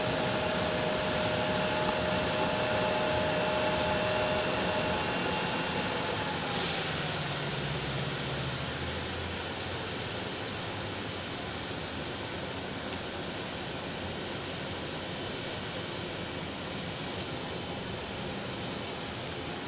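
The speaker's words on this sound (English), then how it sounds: "Shut those engines down, man." Jet aircraft engines run at an airport, giving a loud, steady roar with a high whine. The roar eases slightly partway through as the engines spin down, and no voices are heard over it.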